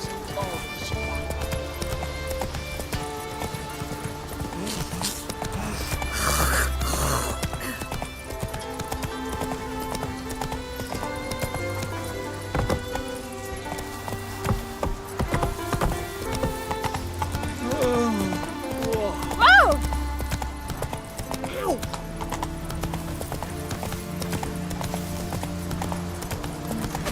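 Hoofbeats of the horse Roach galloping in Witcher 3, steady rhythmic clip-clop through the whole stretch with occasional whinnies, game music and voices talking over it.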